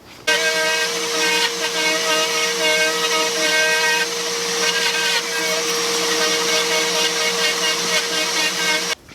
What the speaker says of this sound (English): I've got the milling process done with my router.